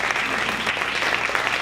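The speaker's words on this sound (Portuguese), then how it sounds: "Dê uma salva de palmas ao Senhor." Church congregation applauding during a worship service, continuous dense clapping throughout the short moment with no pauses.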